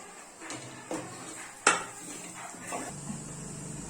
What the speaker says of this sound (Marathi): आता हा आपल्याला मसाला तेल सुटेपर्यंत भाजून घ्यायचा आहे.